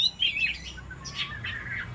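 Caged songbird in a one-on-one singing contest at home, singing close and clear in bright, rapid chirping phrases over faint low background noise.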